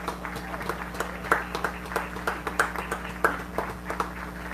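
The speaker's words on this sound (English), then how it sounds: "we ask that you all rise and give a round of applause for the veterans" Scattered hands clap for veterans in a stadium at a high school game, crisp individual claps in a loose, uneven rhythm over a low, steady background hum.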